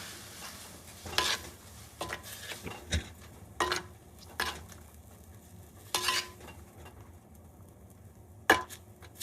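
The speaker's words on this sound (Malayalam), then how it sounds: "അരപ്പ് ഒഴിച്ച് നമുക്ക് നന്നായിട്ടൊന്ന്" A spoon scrapes and stirs through a thick ground curry paste for pineapple pachadi in a pan, with irregular clinks against the metal and a faint sizzle underneath, no voices.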